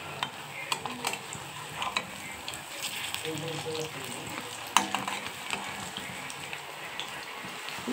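Onions frying until red and crisp in oil in a pan, a steady close sizzle with scattered crackles and occasional utensil clicks, no talking.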